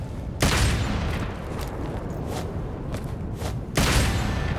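Gunfire in Devil May Cry 5, dense and continuous, with two heavy booming blasts near the start and end over a steady rumbling wash of shots and impacts.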